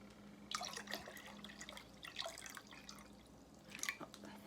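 Four cups of water for pickle brine poured and splashing in a home kitchen, faint intermittent trickles and drips in short bursts, close by and quiet.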